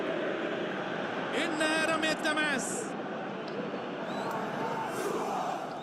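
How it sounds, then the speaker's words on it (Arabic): Zamalek supporters in a stadium in a football video game chant and sing together as a dense crowd roar, with whistle-like tones rising above the steady mass of voices. "نسمع صوت الجمهور والكرفة سود، جمهور الزمالك وبيغنوا اغنية الكرفة سود"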